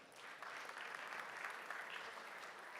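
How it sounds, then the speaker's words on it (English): A summit audience applauds to welcome a speaker to the stage, with steady, even clapping that sounds faint and distant throughout. "A big applause, please."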